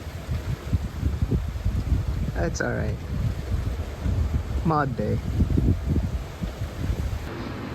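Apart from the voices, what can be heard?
wind blowing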